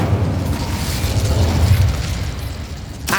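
An Incendio fire spell from Hogwarts Legacy goes off as a rumbling burst of flame. A sustained boom swells and fades over a few seconds and ends in a brief sharp crack.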